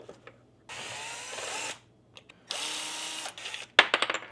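A power drill unscrews Phillips screws from a B1 bike, two sustained whirring bursts of about a second each, close and fairly loud, followed by a short clicking rattle of loosened hardware.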